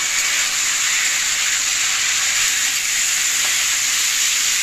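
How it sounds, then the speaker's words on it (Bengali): Potatoes being stir-fried with spices in a pan for a vegetarian potato and pointed gourd curry, giving a steady, close, loud sizzle and hiss with no breaks and no voices. "এবার মশলার সাথে খুব ভালো করে মিশিয়ে নেড়ে চেড়ে একটু কষাতে হবে।"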